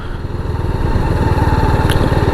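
A KTM RR 310 motorcycle cruises steadily in GTT mode at low revs, its single-cylinder engine giving an even, throbbing drone close by, without talk.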